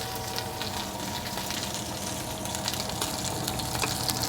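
A flour roux sizzles steadily in a pan while browning for braised lamb shanks, a continuous close frying hiss with light stirring scrapes and no talking.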